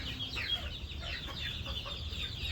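A group of chickens clucks steadily nearby while being fed corn, with overlapping soft clucks and short calls forming a continuous murmur over low background noise.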